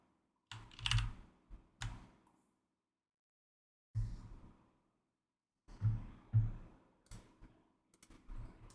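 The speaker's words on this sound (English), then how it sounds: "I'll start typing them in here" Bursts of typing on a computer keyboard, clusters of crisp close key clicks separated by silent pauses, fairly quiet with no voices.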